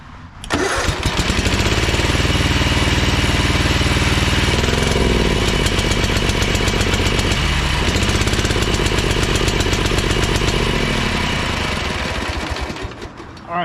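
A Ferris commercial hydro walk-behind lawn mower engine runs roughly at close range, a loud, uneven, sputtering drone that holds steady for several seconds before cutting out.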